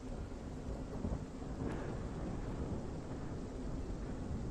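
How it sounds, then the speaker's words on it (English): Steady rain with a low rolling rumble of thunder, continuous and moderately distant throughout. "Then it begins to rain."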